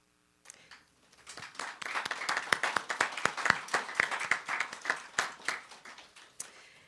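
Applause from a small group at a Canadian citizenship ceremony, with clear individual claps building from scattered hands into a steady round, then thinning out toward the end.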